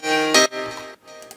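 A house piano on the M1 fader preset strikes a couple of short chords, the first ringing longer before fading, then a softer stab near the end, alone and close.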